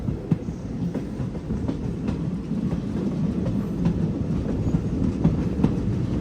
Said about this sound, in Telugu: మన ట్రైన్ అయితే తమిళనాడు వచ్చింది